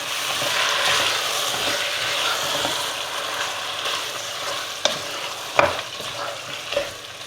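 Chicken biryani masala sautés over medium heat in a pan with a constant close-up sizzle. A few sharp spoon scrapes and clinks stand out toward the end, and no one speaks.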